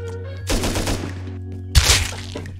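Gunfire rings out in the survival game Rust: a rapid burst of automatic shots, a brief pause, then a second sharp volley, loud and close over a low ambient hum.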